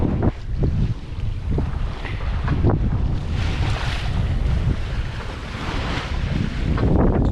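A sailboat runs downwind under a small jib with no mainsail, a loud steady roar of wind buffeting the microphone over rushing water and wave slaps along the hull, with no talk.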